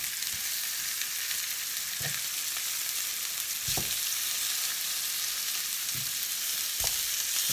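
Steady, dense sizzling of lamb chops frying in a hot pan, with a few soft thuds and stirs standing out against the constant crackle.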